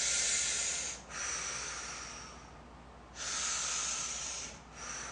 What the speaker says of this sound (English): And then I'm going to breathe.